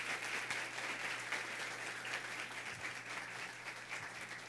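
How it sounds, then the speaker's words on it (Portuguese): Faint, steady clapping from a conference audience at an autism event in Brazil, a soft continuous patter heard from a distance over a low electrical hum. "Vem cá, Cacá, salva de palmas,"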